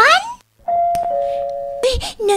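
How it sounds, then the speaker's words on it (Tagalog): A doorbell at a gate rings with sustained electronic tones, heard briefly between bits of speech in a drama scene, loud and close. "naalagi nag-doorbell sa gate"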